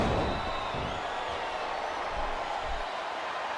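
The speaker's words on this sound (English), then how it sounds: "Sounds like this crowd's got something on their minds, King." Arena crowd noise from the wrestling video game Smackdown vs Raw 2007: a steady, distant wash of murmuring and faint cheering that fills the whole stretch without any clear voices.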